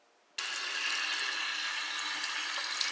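Water runs steadily from a tap while skincare and face-cleansing products are rinsed off, starting abruptly after a short quiet moment and continuing as a close, even rush with no talking.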